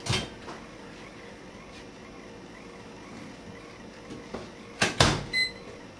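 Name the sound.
microwave oven door and running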